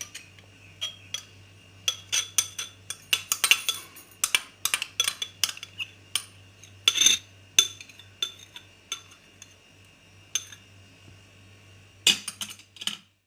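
A spoon clinks and taps against a bowl while chickpea salad with mashed bananas and ketchup is mixed. The bright metallic strikes come in irregular bursts, close and alone, with no talking.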